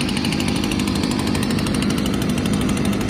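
A leaf blower, propped on logs, forces air through a hole-sawed opening into a log fire burning inside a $15 55-gallon burn barrel, making a loud, steady, unbroken roar with no talk.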